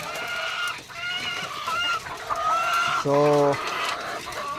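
Chickens and quail on a seaside provincial farm cluck and squawk close by in a busy, overlapping chorus, with a person speaking briefly among them.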